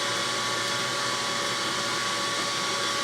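A coke-fired blacksmith forge burns hot for forge welding, giving a steady, dense roar of blown air and fire throughout, close and unbroken, with no voices.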